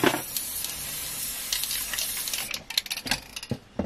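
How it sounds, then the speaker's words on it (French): Glue is sprayed onto a small net in repeated hissing bursts from a spray can, steady at first and then broken into shorter puffs, close and fairly quiet. "Je vais le pulvériser de colle."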